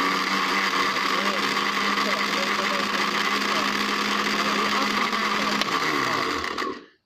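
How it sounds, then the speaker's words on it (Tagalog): A new Boya blender's motor whirs loudly and steadily for several seconds, then winds down and cuts off abruptly. "I have my new blender."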